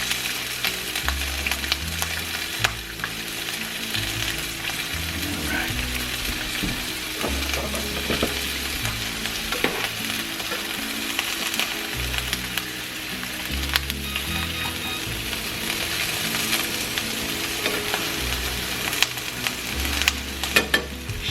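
Potatoes fry in hot oil in a home kitchen, a steady crackling sizzle running throughout with occasional louder pops and low thumps of handling, no talk.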